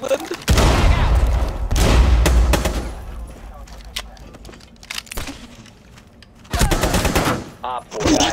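Bursts of automatic gunfire in Rainbow Six Siege, loud and close, with a long volley at the start, scattered single shots in the middle and another heavy burst near the end, with voices talking in between.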